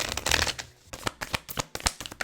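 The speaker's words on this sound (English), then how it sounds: "So I'm just going to do a little quick shuffle." A deck of affirmation cards is given a quick shuffle, with crisp riffling and a series of sharp card slaps at close range and no talk over it.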